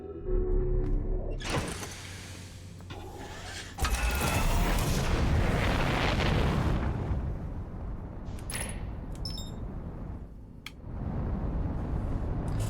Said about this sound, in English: Surely we're safe from the explosion inside the Bramble Planet.